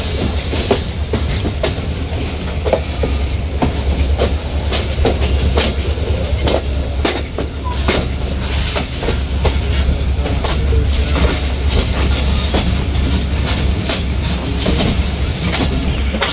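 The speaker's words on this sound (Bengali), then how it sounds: "ঘড়িতে সময় ঠিক সকাল 6:20 ট্রেনটি রাজশাহী রেলওয়ে স্টেশন ছেড়ে যাচ্ছে।" The Titumir Express passenger train leaves Rajshahi railway station in Bangladesh in the morning, with a loud continuous rumble and rhythmic clickety-clack of wheels over rail joints, and a brief squeal, heard from on board.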